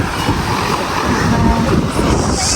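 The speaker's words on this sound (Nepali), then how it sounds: "कस्तो आनन्दको हावा चलेको" Gusty wind rushes across the microphone in a loud, steady roar at the Gatlinburg SkyPark, with a faint wash of water beneath.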